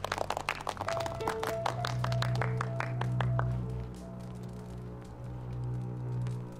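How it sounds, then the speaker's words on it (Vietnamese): An audience claps for a Japanese army commander being introduced at a gathering of townspeople. A dense, close burst of applause rings over a low sustained music bed, then thins out and fades under the continuing music. "Vỗ tay."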